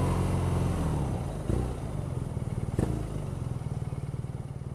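A 2014 BMW R nineT boxer twin idles with a steady low throb, then gets short throttle blips that rise sharply and fall back, the pulsing exhaust rhythm continuing close and loud throughout without talk.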